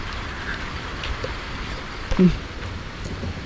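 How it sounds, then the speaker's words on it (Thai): Heavy rain pours down during a morning market outing in Nan, a steady, dense wash of rainfall close by with a brief louder knock partway through. "ฝนตกหนัก"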